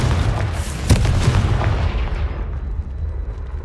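A Confringo spell blast in the video game Hogwarts Legacy, a heavy booming explosion that rolls on as a dense low rumble and slowly fades, loud and close.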